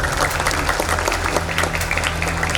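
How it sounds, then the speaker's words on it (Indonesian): A crowd applauds with dense, continuous clapping over a low steady hum, loud and sustained for the whole stretch, at a road groundbreaking ceremony with a governor in Pringsewu, Indonesia. "Kasih tepuk tangan untuk Pak Gubernur."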